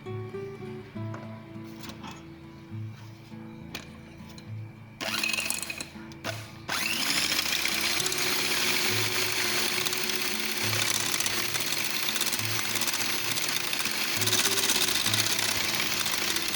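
An electric mixer beats a cup of whipping cream, starting with a lighter whir broken by short pauses, then settling into a loud, continuous buzzing drone.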